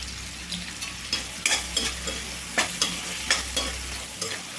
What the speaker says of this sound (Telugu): లైట్గా గోల్డెన్ బ్రౌన్ కలర్ వచ్చేటట్టు అయితే వేపుకోవాలండి